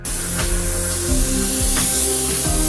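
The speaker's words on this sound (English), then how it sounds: "put straight transparent blue into your airbrush" An airbrush sprays transparent blue paint in a continuous close, loud airy hiss, with a low, steady hum running beneath it.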